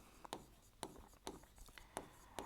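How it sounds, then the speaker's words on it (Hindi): Marker or chalk strokes on a classroom board as a short sentence is written, several sharp scratchy taps and squeaks spaced about half a second apart, close and clear with no talking. "मैं इस तरीके से एक छोटा सेंटेंस लिखता हूं"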